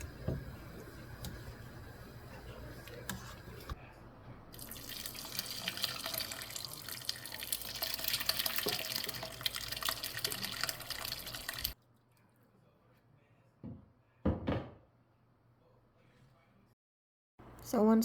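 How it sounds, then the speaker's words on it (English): Cooked blackberries and juice pour through a strainer into a kitchen sink, a steady rushing splash that stops abruptly, followed by quiet drips and a few light clinks. "I go ahead and transfer it over to the sink, and then I strain the juice out of it"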